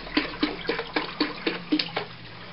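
Fruit juice poured into a batch of melomel mead glugs in a quick, steady rhythm of about eight evenly spaced gulps, close and moderately loud, with no talk.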